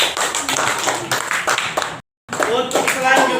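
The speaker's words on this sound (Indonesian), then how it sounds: "Tepuk tangan untuk Sunan Kudus." An audience claps for the group Sunan Kudus at a teacher awards gathering. The clapping is loud, dense and steady, cuts out completely for a moment, then resumes just as strongly.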